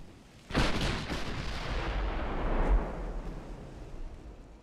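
Naval artillery fire in Ultimate Admiral Dreadnoughts, a warship battle with a battlecruiser: one heavy, booming gun blast followed by a long rumbling roll that stays loud and slowly decays, with a second thud midway.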